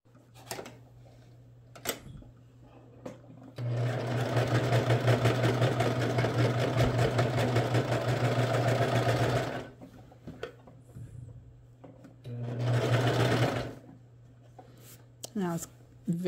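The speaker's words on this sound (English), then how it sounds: "But today I'm going to use my serger." A serger stitches and trims the fabric edge of a skirt in two bursts, a long steady whir of about six seconds and a shorter one later, close and loud, with light handling clicks between.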